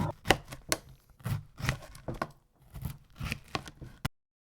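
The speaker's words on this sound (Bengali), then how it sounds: "এবার এগুলোকে স্লাইস করে কেটে টুটি ফ্রুটির জন্য রেডি করে নেব।" A knife slices through watermelon rind on a board for tutti frutti, with a series of crisp, close cutting strokes in an irregular rhythm and brief pauses between them.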